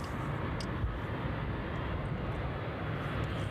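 Aircraft at East Midlands Airport during an evening departure, a steady broadband engine roar filling the whole clip at constant loudness with no talk.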